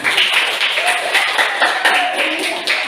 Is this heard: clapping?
yes